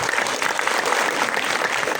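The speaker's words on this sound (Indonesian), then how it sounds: "kita tepuk tangan buat semua yang sudah hadir di sini." Dense, steady applause from an audience at a film gala premiere, many hands clapping loudly and evenly throughout with no break.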